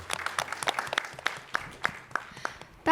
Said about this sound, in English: have a huge round of applause for the